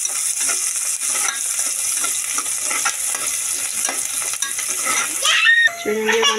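Onions stirred as they fry in a pan for a drumstick curry, a steady close sizzle with repeated scraping strokes that stops near the end, where a few clinks follow.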